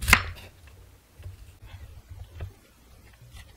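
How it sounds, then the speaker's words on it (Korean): A knife slices a kabocha squash into thin rounds: one sharp cut at the start, then soft, irregular chopping taps close by, with no talking. "단호박 자를 때 단호박을 굴려가면서 바깥 테두리에 칼집을 넣으면 같은 두께로 깔끔하게"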